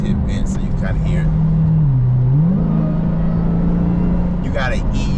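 A Dodge Hellcat on summer tires drives up a winter on-ramp, its engine and exhaust a loud, steady low drone heard from inside the car that dips briefly in pitch, with a voice talking at the start and end.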